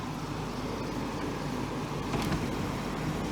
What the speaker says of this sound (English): The exhaust motor is working now.